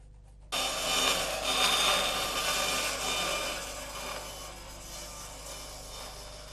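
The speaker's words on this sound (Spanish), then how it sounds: "Con la sierra de cinta se encargará de dar la forma definitiva a la madera." A band saw cuts through a wooden plank being shaped into a violin top, a steady loud rasping whine that starts abruptly and holds on alone with no voices.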